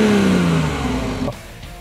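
A BMW i8 accelerates in comfort mode, its exhaust giving a loud close rising drone, a brief tonal engine whine that drops away as the pull eases.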